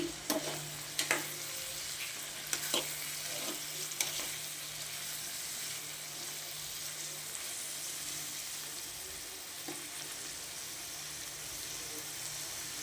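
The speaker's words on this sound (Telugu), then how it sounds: "మళ్ళీ దీన్ని టర్న్ చేసుకుందాం కర్రీని" Potato curry frying and being turned in a pan, a steady broadband sizzle throughout with a few sharp clinks and scrapes of the spatula near the start, close and fairly quiet, no talking.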